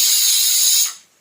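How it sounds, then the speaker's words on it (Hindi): A kitchen pressure cooker lets off a loud, steady hissing whistle that holds for under a second before quickly tailing away into silence. "पिंकू को कुकर की सीटी की आवाज़ आती है"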